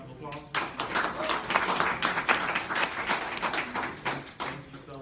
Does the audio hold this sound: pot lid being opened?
no